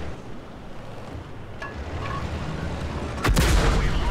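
An artillery shell strike in World of Tanks with an E50 tank: a sudden heavy, close blast near the end, rising out of low rumbling ambient noise and faint mechanical clatter.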